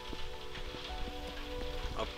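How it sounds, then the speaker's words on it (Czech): Rain patters outside during a session of the PC game Skyforge, soft and close, with light taps on a surface over a faint tonal game hum and a low rumble beneath. "A venku prší, prší"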